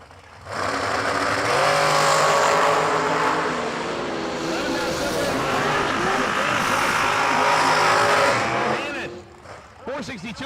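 A drag race car launches at the New Year Nationals, its engine building to a loud, sustained roar that holds strong before cutting off near the end, with a brief clatter afterward.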